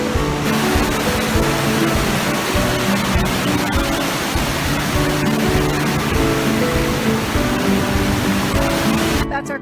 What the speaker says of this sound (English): Right there is Yosemite Falls lower